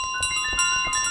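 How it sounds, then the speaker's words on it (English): A golden bell in Untitled Goose Game gives several bright, ringing metallic chimes in quick succession, close and clear with no talk. "Oh, if I walk, it doesn't ring."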